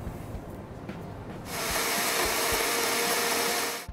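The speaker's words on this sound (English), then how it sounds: "So that all goes in the blender." A blender starts after some brief clattering, then whirs loudly and steadily, blending carrot, ginger and marjoram with a little chicken stock in a kitchen.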